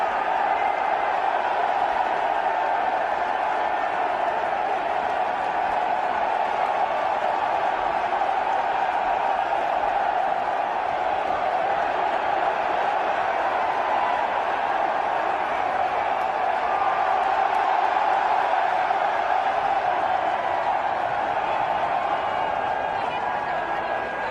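A large military audience cheers and whoops for the president, a steady, dense roar of crowd noise holding at an even level throughout, with a muffled broadcast quality and no single voice standing out.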